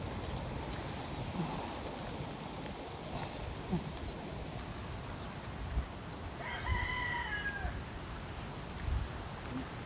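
A rooster crows once in the distance over a noisy outdoor background during Typhoon Ulysses, a single drawn-out call partway through.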